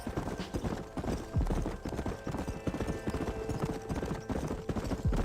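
A horse gallops in Red Dead Redemption, with rapid, loud, evenly paced hoofbeats close by and a snort or whinny mixed in, no voices.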